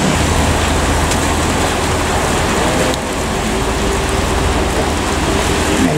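Rain falls on a convoy of luxury tour buses leaving a meeting point, a steady broadband hiss of rain mixed with low idling engine rumble throughout, close and constant.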